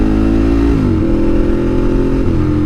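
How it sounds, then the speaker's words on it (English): A loud V-twin motorcycle engine thumps steadily close by, its low rumble rising briefly as it revs, then holding a continuous throaty drone. "cannot hear this fucking loud thumping V-twin engine."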